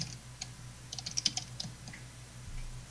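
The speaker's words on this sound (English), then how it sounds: "See, she's typing now." Light typing on a computer keyboard during a live online show, a brief soft burst of clicking keystrokes in the middle, faint against a low background hum with no voices.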